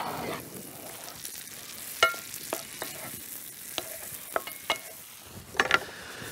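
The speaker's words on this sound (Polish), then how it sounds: "Teraz mocny ogień, cebula skwierczy" Onion sizzling in a pan over high heat for a mushroom sauce, a steady soft frying hiss broken by sharp clicks and taps of stirring, fairly quiet with no talk.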